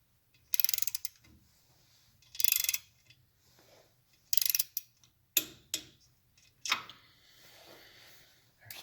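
A ratchet wrench tightens engine bolts on a 1940 Harley-Davidson UH to 20 foot-pounds, sounding in short bursts of crisp clicking separated by quiet pauses, with a few single sharp metallic clicks toward the end.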